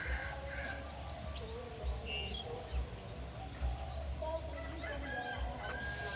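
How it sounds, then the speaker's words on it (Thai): Roosters crow at a distance over a steady outdoor hum, with chirping birds and insects in the background; no one speaks. "เสียงไก่เสียงนกนะคะ"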